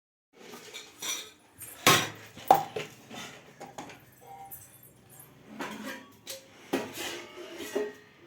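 Metal pots, pans and cutlery clatter and clink nearby as a kitchen is emptied for cleaning, in irregular bursts of knocks and jangles with brief pauses between.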